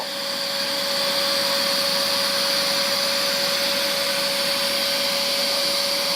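A UWANT B100E fabric cleaner runs on a sofa with a steady, loud motor whine and a constant high-pitched tone, unbroken from start to finish.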